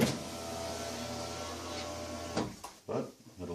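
A power window motor in a fourth-generation 1995-1999 Nissan Maxima runs slowly on a nearly dead battery, giving a steady strained whir for about two seconds before a few clunks and thumps.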